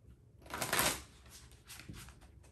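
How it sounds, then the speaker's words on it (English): Dropped oracle cards are gathered up and shuffled together in a brisk, papery riffle that peaks early, followed by lighter clicks and slides of cards, close and fairly quiet, without speech. "Let's pick up all the cards."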